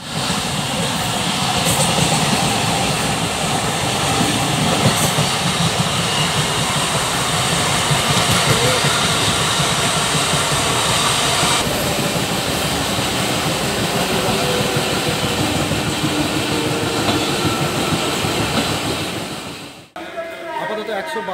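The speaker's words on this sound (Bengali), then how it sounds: "ট্রেন এখন ছেড়ে দিয়েছে" Shalimar–Puri express train (12887) running after leaving the station: a loud, steady rumble and roar of the moving carriages that carries on unbroken before dipping briefly near the end.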